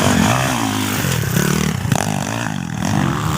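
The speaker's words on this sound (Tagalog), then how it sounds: "Grabe, napakalakas ng mga motor nila mga idol." Loud motorcycles racing at a beginners' event, engines revving and droning continuously at close range with shifting pitch and rattling clatter.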